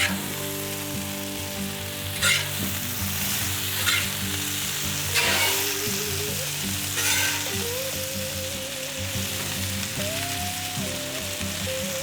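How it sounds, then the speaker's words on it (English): Hash browns fry in bacon grease on a flat-top griddle, giving a steady, close sizzle with a few louder scraping bursts as they are flipped and moved, and a faint low hum running underneath. "All right, time to flip the hash browns."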